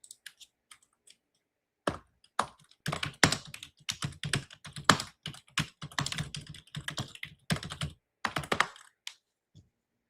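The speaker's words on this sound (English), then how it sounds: "There goes my aggressive typing again" Fast, forceful typing on a computer keyboard, dense bursts of key clicks with brief pauses, close and fairly loud, with no talking.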